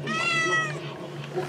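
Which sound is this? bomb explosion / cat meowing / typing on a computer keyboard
cat meowing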